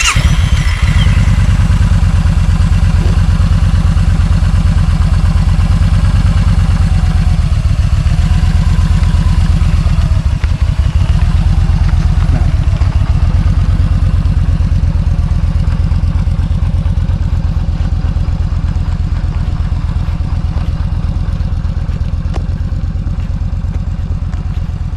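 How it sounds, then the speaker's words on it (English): A motorcycle engine runs steadily during a learner's license riding session, a loud continuous low rumble held close throughout with faint clatter and no speech. "Bike goes up. Kickstand up. Clutch in."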